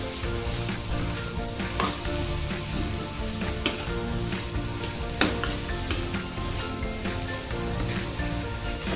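Hadga flower bhaji with peanut powder fries and is stirred in a pan, a constant close sizzle broken by scattered scraping and clinks of the spoon against metal, with no one talking.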